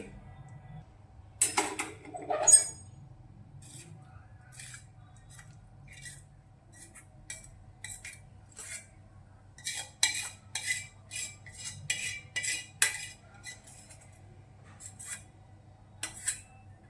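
Cooked barej, a sweet dish, being moved into a serving dish with metal utensils: sparse clinks and scrapes at first, then a denser run of quick metallic taps and scraping, faint overall against a low background hum, no talking.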